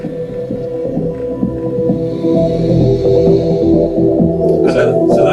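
Muffled music thumps from inside a closed car, heard outside as a dull bass-heavy throb with the higher tones dampened, growing louder toward the end.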